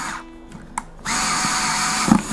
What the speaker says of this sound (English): You want to be careful if you're using a power tool driving these screws in.